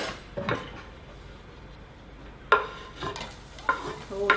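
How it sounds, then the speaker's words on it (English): Onion and garlic hit a hot pan and sizzle as they are stirred, with sharp bursts of frying and scraping against the pan over a quiet hiss, close and fairly loud. "Oh, hear that sizzle. That's what we like to hear."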